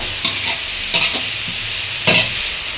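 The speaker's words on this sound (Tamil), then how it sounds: "ஆனியன் நல்லா வதங்கிடுச்சு" Onions sautéing in a pan for mutton kuzhambu, a steady sizzle broken by several scraping stirs of a spatula, close and without talk.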